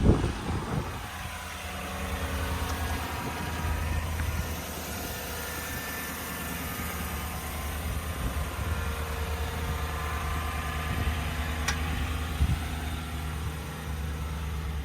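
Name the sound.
2016 Chevrolet Tahoe 4x4 engine running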